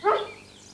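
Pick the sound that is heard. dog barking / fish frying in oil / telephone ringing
dog barking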